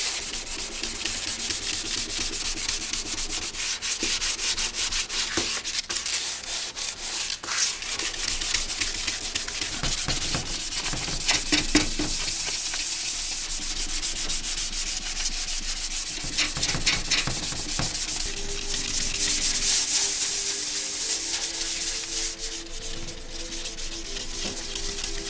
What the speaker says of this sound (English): I'm going to just be real careful with the soft block and 400 and try to work on the whole part